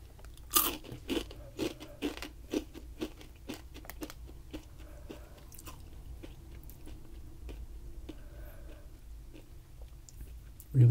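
Close, crisp crunching of a salty, spice-dusted Mexican snack being bitten and chewed, with a burst of loud crunches early on followed by steadier softer chewing, no talking.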